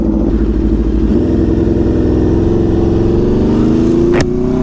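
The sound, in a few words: motorcycle exhaust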